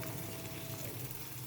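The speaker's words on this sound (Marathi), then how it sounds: "आता टोमॅटो आणि कांदा चांगला एकजीव होईपर्यंत आपण त्याला मस्तपैकी असं परतून घेऊ" Tomato, onion and finely chopped green chilies frying in a pan, giving a soft, continuous sizzle with faint stirring, low and steady with no talk.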